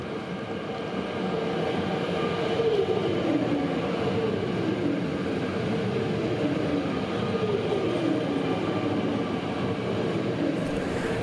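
An S5X regional train departs Gößnitz station toward Zwickau with a steady rumble of wheels on rail, and its rising motor tones sweep up repeatedly as it pulls away. The sound is loud and continuous, with no voices.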